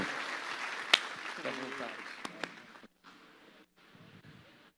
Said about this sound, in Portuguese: Você pode dar uma salva de palmas para Jesus pela vida dele?